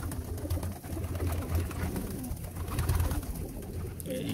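Several desi pigeons coo continuously in a loft, a dense, low burbling chorus heard up close with muffled shuffling underneath.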